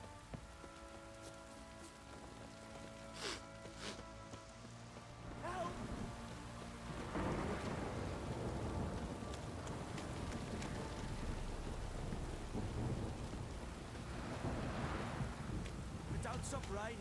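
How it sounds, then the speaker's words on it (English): Rain falls in the video game The Witcher 3: Wild Hunt, a steady hiss of drops on surfaces that thickens midway, with low rumbles of thunder and wind gusts, while a man mutters faintly at the start. "Don't stop raining, my arse will rot off."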